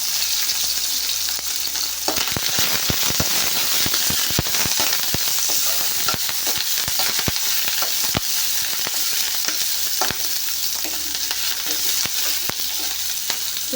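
Chopped onions and tomatoes hit hot oil for a brinjal karam curry, giving a steady loud sizzle with sharp crackles and pops as the pan is stirred.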